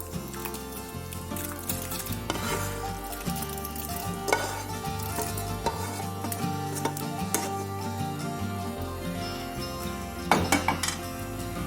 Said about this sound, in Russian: Забрасываем морковку с луком и копченым мясом.